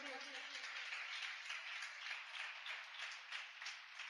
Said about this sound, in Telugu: కొడు చప్పట్లు.